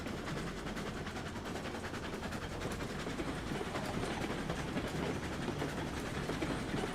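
A train rolls through a model railway video game with a steady, dense rumble and faint clickety-clack, heard alone at moderate level.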